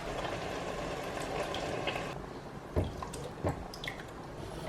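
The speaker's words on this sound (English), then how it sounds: "We're just going to add chopped tomatoes" Chopped tomatoes and coconut milk are poured into a non-stick pan, giving soft, wet glugging and splattering with a few louder plops over a steady sizzle and hiss.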